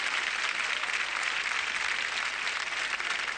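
Steady, dense applause from a television studio audience in Chile in 1987, sustained at an even level throughout with no voices rising above it.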